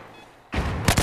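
Battlefield 4 gunfire on the Operation Locker map in Rush mode: after a quiet half second, a loud burst of shots erupts, with sharp reports punching through dense, continuous firing.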